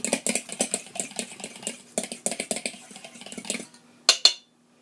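Milk being stirred into a mixture for fried chicken, a quick run of close, rhythmic scraping and clinking of a utensil against a bowl, ending with two sharp taps.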